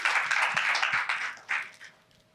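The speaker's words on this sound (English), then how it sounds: "So round of applause." Audience at a masterclass feedback session giving a round of applause, many hands clapping briskly and fairly loud, then thinning out and fading toward the end.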